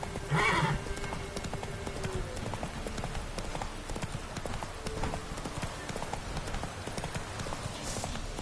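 Roach the horse gallops steadily through The Witcher 3, hooves clip-clopping in a quick continuous rhythm, with a short whinny early on and faint background ambience underneath.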